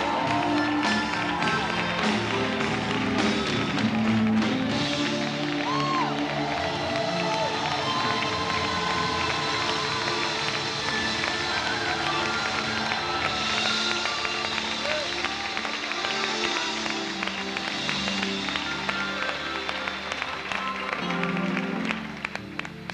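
Worship audience at a concert in Guadalajara, 1995, applauding loudly and continuously as a dense crowd roar, mixed with music and voices throughout.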